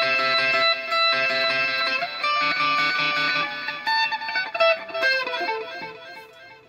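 An Enya Nova Go Sonic electric guitar plays a bright, sustained chord pattern through echo effects. The notes smear and repeat into one another, and the volume swells and dips toward the end. No voice is heard.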